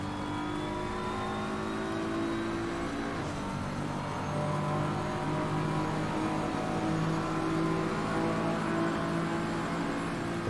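A BMW GT3 race car's engine heard onboard at Imola, a steady loud drone with engine tones rising and shifting through the corner, continuous for the whole stretch with no voices.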